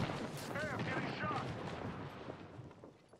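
Apex Legends gunfire crackles in a dense, steady barrage at close range, tapering slightly over a few seconds.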